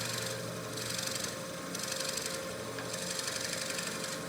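A dull drill bit bores into a wooden pen blank under heavy quill pressure, a steady grinding whir with a scraping edge that pulses in rhythmic surges.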